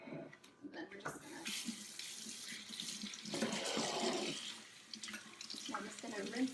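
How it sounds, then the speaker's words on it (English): Tap water runs over a dish holding juice pulp, a fluctuating splashing rush near the sink with faint clinks, the flow swelling in the middle. "Rinse this dish out with all the pulp residue."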